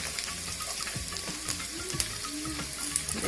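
Finely chopped garlic frying in ghee for palak paneer gives a steady, close sizzle with faint spoon clinks scattered through it, and no voices.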